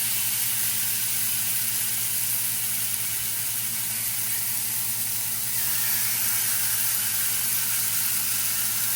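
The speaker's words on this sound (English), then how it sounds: "Let's throw some more chops on our hot skillets." Pork chops sizzle in hot skillets, a steady close hiss of frying fat that holds constant throughout, with a low hum beneath and no talk.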